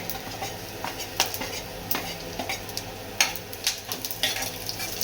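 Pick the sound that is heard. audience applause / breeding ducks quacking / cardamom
cardamom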